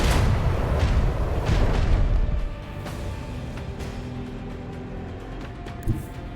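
Macro cannons aboard a starship fire in Warhammer 40k: Rogue Trader, heavy booming blasts at the start that settle into a low rumbling decay, loud with no talk.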